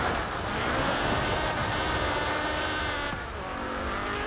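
A Ford Escort rally car slides around a dirt trail in the Forza Horizon 4 racing game: a loud, continuous engine drone with shifting revs and tyre scrub, dipping briefly near the end, with no talk.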